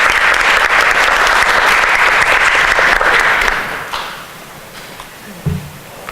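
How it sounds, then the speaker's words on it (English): Dense, loud applause from a symposium audience fills the room for about four seconds, then fades out, leaving a quiet room with a few faint knocks. "How about a round of applause, please?"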